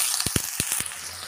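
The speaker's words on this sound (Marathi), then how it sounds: "आता आपण वालाची शेंग टाकून घेतलेली आहे." Thickly cut hyacinth bean pods (vaal shenga) sizzle in a pan, with a quick cluster of several close crackles and pops over a soft steady hiss, no talking.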